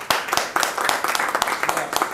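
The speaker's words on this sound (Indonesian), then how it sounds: "Berikan sorak-sorai buat Tuhan." Church congregation clapping and cheering for God, a steady run of hand claps repeating throughout at close range, with a few voices mixed in.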